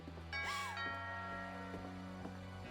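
A chiming ding-dong doorbell in the video game What Remains of Edith Finch rings once, clear and close, its tones lingering and decaying over a low ambient hum.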